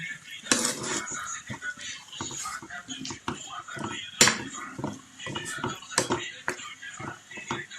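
Spiced plantain purée being mixed with fish and spring onions, a spoon clinking and scraping against a pot in irregular knocks and rattles, close and moderately loud, with a few sharper metallic clacks throughout.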